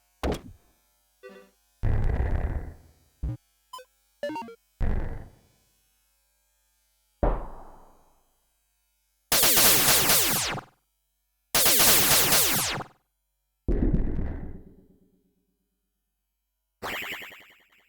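Scattered electronic interface blips and action effects from the game Flick Tactics arrive in short separate bursts, some sharp thunks and some longer noisy whooshes, with silent gaps between.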